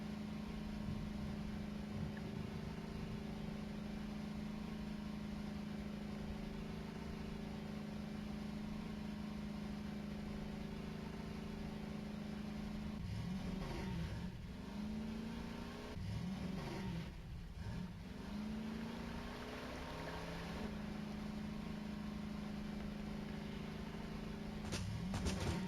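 Engine of a damaged vehicle in Voices of the Void, running steadily for the whole stretch with a constant low drone and tonal hum, and a few brief swells in pitch like revving midway through.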